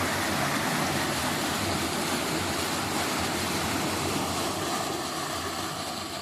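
Water surges through the outlet of Kokilampadu Dam in Andhra Pradesh, India, a dense, steady roar of churning flow at close range, holding constant and loud throughout with no voices.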